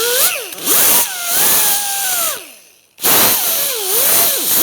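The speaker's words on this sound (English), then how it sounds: "we're going to clean out these channels here where the new hardware will sit. We're going to use the same abrasive wheel." An abrasive wheel on a power tool scours the channels where new brake hardware sits on a 2011-2016 Hyundai Elantra front brake, loud close whining bursts with rising and falling pitch, stopping briefly before spinning up again.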